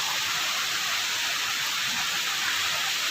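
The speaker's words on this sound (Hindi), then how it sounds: "इतना बारिश हो रही है, आप देख सकते हैं।" Heavy monsoon rain in July falls steadily, giving a dense, even hiss that fills the whole stretch, close and loud, with no voices.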